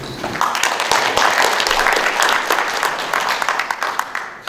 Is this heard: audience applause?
yes